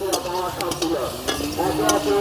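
Browned chupri potatoes fry in a pan with steady sizzling, punctuated by close spatula scrapes and stirring clatter throughout.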